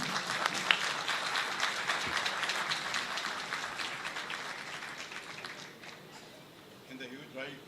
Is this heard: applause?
yes